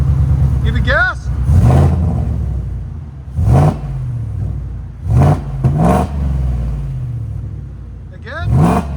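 Supercharged 850+ hp Ford F-150 5.0L V8 with headers and Carven TR exhaust, revved repeatedly up close: five or six sharp, loud throttle blips rising over a rumbling idle, with brief voices in between.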